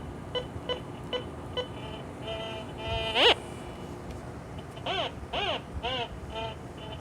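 Warbling tracking tones from an MX Sport metal detector set to all metal mode and sweeping over black sand. Faint ticks are followed by several louder rising and falling chirps that come in short bursts, with no one speaking.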